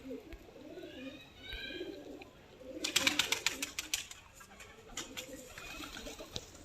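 A pigeon hen coos in soft repeated low phrases in a breeder's loft, joined midway by a burst of sharp clatter and fluttering, with faint background noise throughout.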